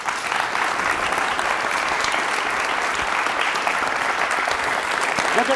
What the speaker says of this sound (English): Great big round of applause for you guys.